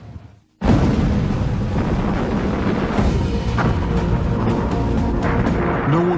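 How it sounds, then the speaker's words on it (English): Explosion welding detonation rolling across the top surface of a metal plate, bonding two plates together; a sudden loud blast bursts in after a brief quiet and sustains as a dense, roaring rumble for several seconds. "That starts the explosion, and the explosion rolls across the entire top surface of the plate"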